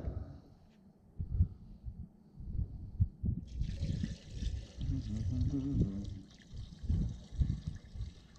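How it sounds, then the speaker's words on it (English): Coolant concentrate mixed with water trickles and gurgles as it is poured into a car's coolant reservoir, close and uneven with bubbling splashes, amid handling noises. "Make sure we got some coolant in here. No, we need to add some."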